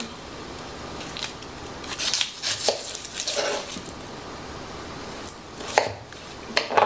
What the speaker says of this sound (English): And then I'm gonna cut 1 onion out.